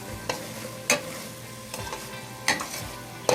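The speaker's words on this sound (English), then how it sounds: "Stir it well." Spoon stirring radish leaf sabji (mooli ke patte ki bhaji) in a pan after garam masala is sprinkled on top, with a steady low sizzle broken by four or five sharp scraping clinks at irregular intervals, close and clear, no talking.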